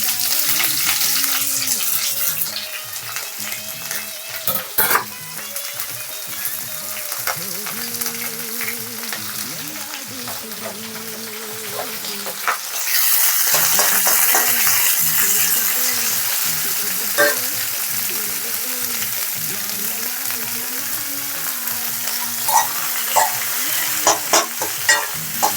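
Chopped onions fry in oil with curry leaves and dried red chilies for a Karnataka bassaru meal, giving a loud, steady sizzle with repeated stirring scrapes and clinks throughout, no talking.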